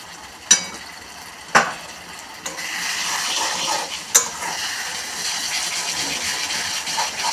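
Spices stir-fried in a pan over raised gas flame give a steady close sizzle, broken by a few sharp scrapes and clanks of a spatula against the metal, with no talking.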